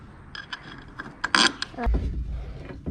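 Screws and nuts are fitted by hand while a Rhino-Rack Pioneer Platform roof rack is mounted on a Jeep Wrangler, giving close metallic creaks, clicks and ratcheting scrapes, ending with a low rumbling thud.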